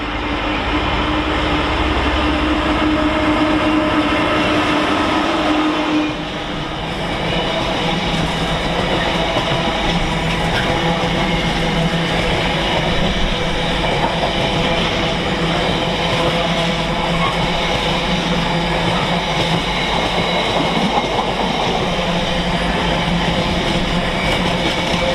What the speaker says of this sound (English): there is a freight movement, and it is running about 50 minutes late. Crewe Basford Hall to Southampton Maritime Terminal